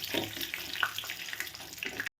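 Cashew nuts frying in hot ghee in a pan for Kerala-style egg biryani, giving a steady, close crackling sizzle that stops abruptly at the end.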